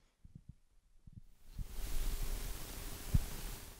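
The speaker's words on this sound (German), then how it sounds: "wenn sie auf Papier zum Beispiel rumkriechen, man das richtig gut hört" Earthworms with tiny barbed bristles crawling over paper give a soft, close scratchy rustle that builds after a few quiet taps and continues as a steady dry hiss, with one sharper knock near the end.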